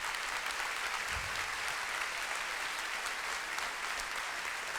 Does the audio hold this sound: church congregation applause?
yes